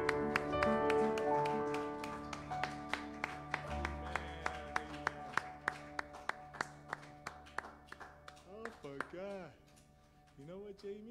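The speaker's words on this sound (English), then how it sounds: "Give the Lord a clap offering." Church congregation at a Sunday morning service clapping in a steady rhythm as a clap offering to the Lord, sharp regular claps over organ and music, with voices singing and speaking throughout.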